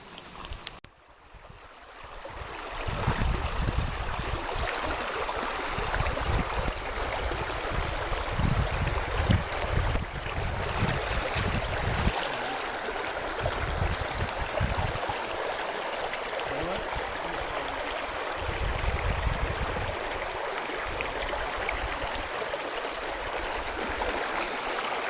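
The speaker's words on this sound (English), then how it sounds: "Creek running right in front of me here" A creek runs right beside a tent in the Dolly Sods Wilderness, a steady, close rushing and burbling of water that stays fairly even throughout, with no voices.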